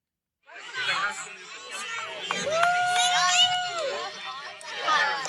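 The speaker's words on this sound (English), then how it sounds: "Literally everyone is shouting Stitch." A large excited crowd shouting and cheering together at a Halloween event, with overlapping voices, shrieks and chatter heard close and loud in a continuous burst.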